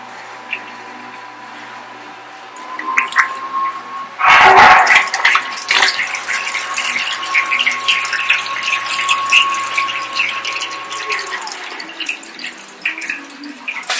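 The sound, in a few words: water being pumped into brew system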